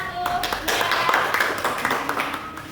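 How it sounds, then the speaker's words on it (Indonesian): Classroom clapping for a student group during a microteaching lesson on states of matter, a brief burst of hands from a small class, fairly close, with talk mixed in. "Oke, tepuk tangan untuk kelompok 1."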